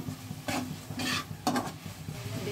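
Ground spices with turmeric, salt, coriander and cumin frying in a pan with slit green chillies, three bursts of stirring scraping through a steady sizzle, close and moderately loud.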